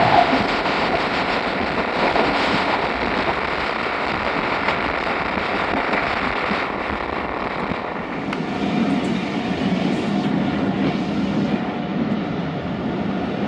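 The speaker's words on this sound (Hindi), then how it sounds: "सामने से आ रही है 34 डाउन पार्क बिजनेस एक्सप्रेस" The 34 Down Pak Business Express train passes on the line near Okara Cantt, heard from aboard another train: a loud, continuous rumble and rattle of rolling stock, with clickety-clack and a shift in tone partway through.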